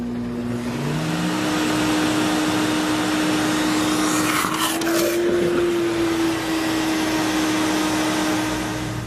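A Sirena water-filtration vacuum cleaner runs loud and steady throughout, its motor whine climbing in pitch early on, followed by a brief burst of rushing air and suction partway through, then settling back into the constant drone.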